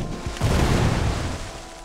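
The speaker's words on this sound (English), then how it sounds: "Cluster bomb time. Don't cluster bomb in there." A cluster bomb goes off in Worms 3D with a single deep, loud boom that swells quickly and then decays into a rumbling tail.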